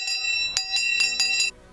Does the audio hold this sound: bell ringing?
yes